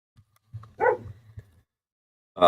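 A dog lets out a few short barks and yips at moderate distance, with a brief burst at the very end, alongside light background sounds.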